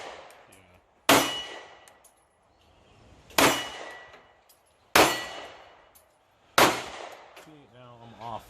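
Four loud Mossberg MC1 SC pistol shots ring out at a steady pace, each followed by a sharp metallic clang off a steel target and a decaying ring, with faint voices between and brief talk at the end.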